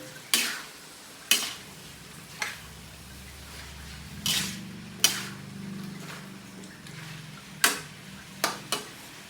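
Beaten eggs being stirred into rice frying in a pan, with sharp metal spatula scrapes and taps at irregular intervals over a soft, low sizzle, close by and without talk.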